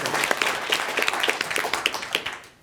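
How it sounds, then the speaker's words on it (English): An audience at a personal branding talk gives a brief round of applause: dense, lively clapping from many hands that fills the space, then fades away quickly. "Round of applause."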